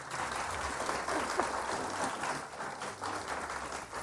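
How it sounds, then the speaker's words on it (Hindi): Steady, full applause from a studio audience for a chef on an iftar cooking show, dense clapping holding at an even level throughout. "तो इनके लिए भी बहुत सारी तालियां।"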